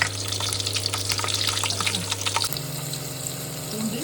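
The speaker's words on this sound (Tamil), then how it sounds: "இதை வந்து வதக்கி விட்டுக்கலாம்" Sizzling and crackling from garlic sautéing in a hot pan, steady and close, over a low background hum with no talking.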